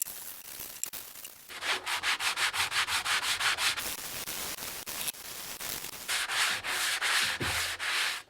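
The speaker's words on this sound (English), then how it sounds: "Grab your sanding spongy thingy and get to work smoothing out those edges." Wooden bench edges being hand sanded with a sanding sponge: brisk, rhythmic back-and-forth scratchy strokes, close and loud, in two runs separated by a short pause.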